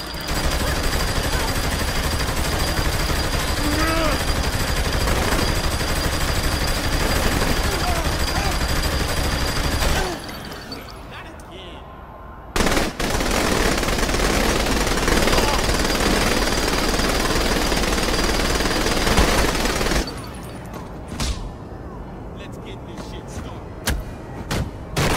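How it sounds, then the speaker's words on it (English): Minigun fire in Saints Row: The Third, loud sustained rattling bursts of rapid shots lasting several seconds each, broken by short pauses, with game voices shouting in between. "Minigun!"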